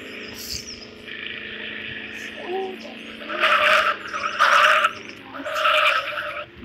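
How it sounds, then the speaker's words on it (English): Car drifting with squealing tires in the video game Mad Out 2, sustained engine and skid noise rising in loud bursts, with a faint chirp mixed in. "Drifting."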